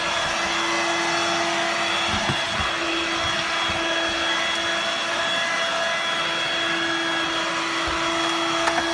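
A Dirt Devil Vibe 3-in-1 corded stick vacuum runs continuously with its rotary brush engaged on the floor, a steady close motor whine with a few faint bumps and clicks as it moves.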